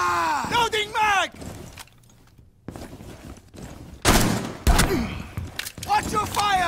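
Gunfire in the tactical shooter Rainbow Six Siege, with loud, sharp bursts of shots alongside in-game voices and shouted callouts, plus rumbling thuds between volleys.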